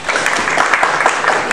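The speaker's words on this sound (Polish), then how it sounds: "jeszcze raz bardzo proszę o oklaski dla Sebastiana" Audience applause at a Polish company's NewConnect stock market debut event, loud, dense clapping from a room full of people, brief and steady.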